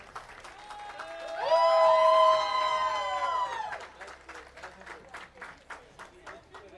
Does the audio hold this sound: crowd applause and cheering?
yes